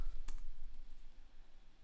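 A single brief, faint click from a computer keyboard key being pressed while typing, with quiet room noise after it.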